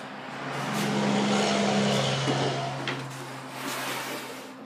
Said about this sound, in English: I'll wait for the truck.